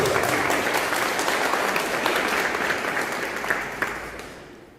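A church congregation at a Catholic charismatic service applauds steadily, dense clapping that slowly fades toward the end.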